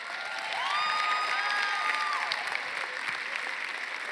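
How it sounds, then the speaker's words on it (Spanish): Sustained audience applause mixed with cheering and whistle-like tones at a comedy special service, swelling after half a second and holding steady and loud for the rest of the stretch. "Vamos a recibir con un fuerte aplauso"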